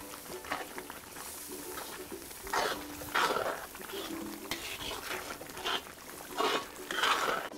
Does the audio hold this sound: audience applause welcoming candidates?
no